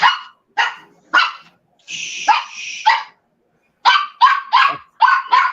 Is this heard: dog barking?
yes